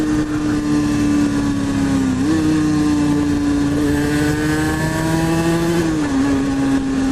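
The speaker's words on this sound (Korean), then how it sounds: "2T 바이크 소리, 바이크 타면서 정말 한번 만날까 말까 하는 그런 바이크 소리를 오늘 만나시게 된 거죠" Aprilia RS 125 two-stroke motorcycle running loud and close, a steady buzzing engine note that dips and rises slightly in pitch a couple of times, with no talking over it.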